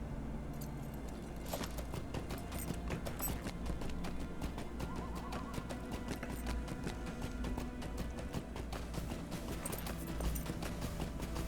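Horse hooves clip-clop steadily in the Lord of the Rings Online game, with whinnies and a jangle of tack, in a continuous moderately loud ambience with no talk.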